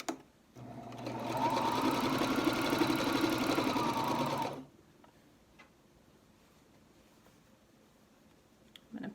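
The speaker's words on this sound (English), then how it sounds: "now I'm going to sew this seam" A sewing machine stitches a face mask seam in one steady, loud run of about four seconds, then stops, leaving quiet room tone.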